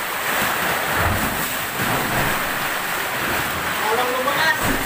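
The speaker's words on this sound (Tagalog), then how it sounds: "Nagkangalit ang alon din sa loob." Rough ocean waves churn and crash inside a rocky sea cave, a continuous loud roar of surf with occasional heavier surges and wind buffeting the microphone.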